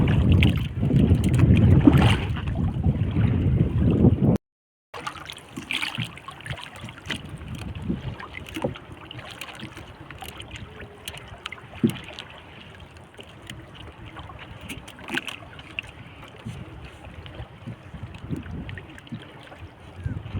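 On a small boat out at sea in choppy water, a strong wind buffets the microphone in a loud rush that drops out briefly, then continues as a lower, steady roar with water noise.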